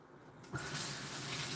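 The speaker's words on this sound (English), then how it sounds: "Now we'll wash up" A kitchen or bathroom tap is turned on and runs steadily for washing up, a close, even rush of water that starts abruptly after a moment of quiet.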